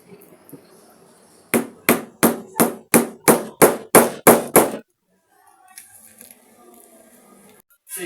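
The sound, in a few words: hammer knocking a rivet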